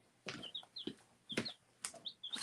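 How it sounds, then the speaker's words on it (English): Baby chicks peep in a home kitchen, with several short, high chirps in quick bursts at close range, fairly quiet and without talk. "There's the chickies."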